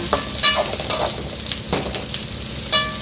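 Cumin, dried red chillies, fenugreek, black pepper and coriander seeds frying in a pan for a dried-fish curry, with a steady close sizzle broken by several scraping stirs.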